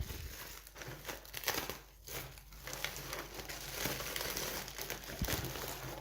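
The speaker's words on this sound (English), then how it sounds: "It's in there pretty good with this paper." Paper packing crinkles and crumples as a sealed Dior Poison Esprit de Parfum is unwrapped, steady close rustling for several seconds with no talk.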